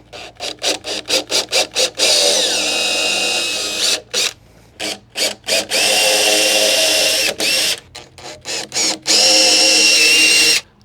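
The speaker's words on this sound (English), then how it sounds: "Now we will go firstly through all the holes and do a 3mm pilot hole" A power drill whirs loudly in repeated short bursts, then several longer runs, each starting and stopping abruptly, close up, drilling 3mm pilot holes for a DIY vehicle 4x4 roof rack platform.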